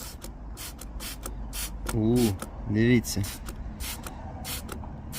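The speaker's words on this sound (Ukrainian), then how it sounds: "Для тесту нам знадобиться ось така пшикалка з водою." A spray bottle mists plain water onto an anti-rain film on a car mirror in a quick string of short, hissing spritzes, with someone speaking briefly over them.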